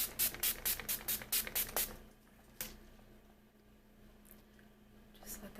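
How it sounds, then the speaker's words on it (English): A rapid series of about nine short, crisp face mist sprays in quick rhythm, then one more spritz after a pause, followed by quiet room noise. "So I'm just gonna spray that."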